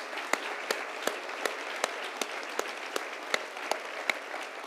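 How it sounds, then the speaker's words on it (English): An audience at an evening event gives a sustained round of applause, steady dense clapping with regular sharper claps standing out, no speech over it. "And also a massive round of applause."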